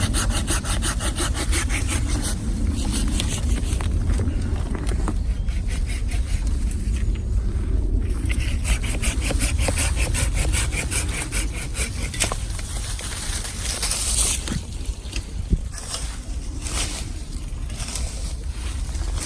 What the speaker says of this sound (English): Padmapriya is just doing more cutting, and this is how the taper is created